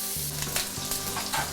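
Pork belly stir frying in a pot, a steady close sizzle of rendering fat with scraping stir strokes, continuous and fairly loud with no talking.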